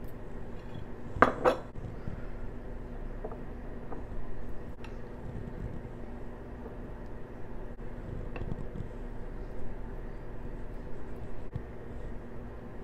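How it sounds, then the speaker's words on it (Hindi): Fruit salad dressed with lime and honey is tipped into a serving bowl, opening with a few loud clinks of a utensil against dishware. Softer scrapes and taps follow under steady low room noise, with no talking. "अभी इसको हम निकाल देंगे एक सर्विंग बाउल में।"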